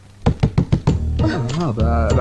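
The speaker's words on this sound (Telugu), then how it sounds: "తలుపు కొట్టిన సౌండ్ వస్తుంది" Five quick knocks in a rapid row, close and sharp, followed by a voice talking.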